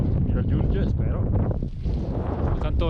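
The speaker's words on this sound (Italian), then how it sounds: "Tanto vento" Strong wind below Pizzo Alto summit in the Lagorai mountains roars continuously against the microphone in loud, buffeting gusts, with a voice speaking faintly underneath.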